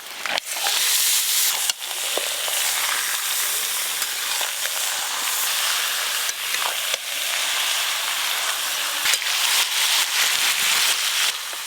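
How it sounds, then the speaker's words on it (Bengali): Washed cut mutton hitting reddish-fried onions in hot oil for a mutton biryani, giving a loud, steady broadband sizzle with scattered clicks and stirring scrapes throughout, no voices. "পেঁয়াজ একটু লাল লাল করে ভাজা হয়ে গেছে, এবার কেটে ধুয়ে রাখা মাটন দেব"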